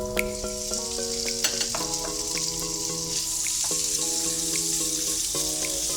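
Pork and garlic fry in a pan for Thai fried rice (khao pad moo), a steady soft sizzling hiss running throughout beneath louder melodic background music.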